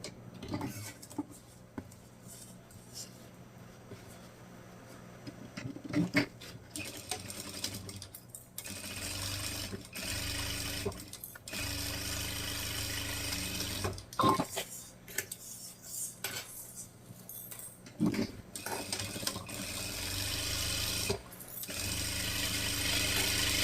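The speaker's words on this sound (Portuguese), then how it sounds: "aqui é uma costura de um pé de máquina dos dois lados" A sewing machine stitches the fabric lining and batting of an Easter basket, running in steady mechanical bursts with short pauses between runs, close and moderately quiet.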